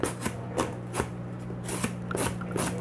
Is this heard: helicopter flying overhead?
no